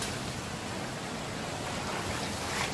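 Strong river current rushes at the Kabintini crossing near Ambon Ambon falls in Pangil, Laguna, a dense, continuous roar of churning water, loud and close with no breaks.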